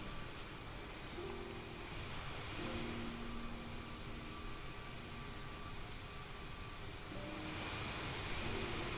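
Jet engines of a CRJ 1000 airliner taxiing in a flight simulator game: a steady, even whine and broadband roar holds for the whole stretch with faint tonal hums, no talk.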